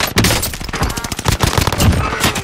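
Rapid, loud bursts of automatic gunfire crackle in close succession during a Call of Duty Warzone match, with a dense, uneven rhythm throughout.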